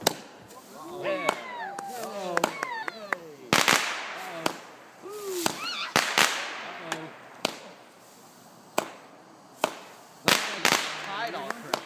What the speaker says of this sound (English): now we got some rockets